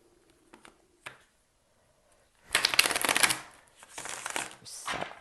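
Tarot cards give a few soft taps, then two bursts of brisk, papery shuffling close up, each lasting about a second.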